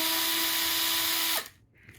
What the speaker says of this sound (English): The good thing is I can hold the tin, hold the drill, put it in